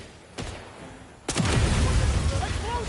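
In the shooter 007 First Light, an explosion goes off, first as a small thump and then as a loud, close boom with a sustained rumbling roar.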